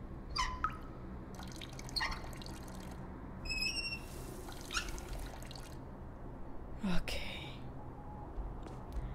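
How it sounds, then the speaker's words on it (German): Water dripping inside the horror video game The Nightfall, with faint scattered drips and splashes under quiet ambient rumble, while someone talks over parts of it. "Da tropft's."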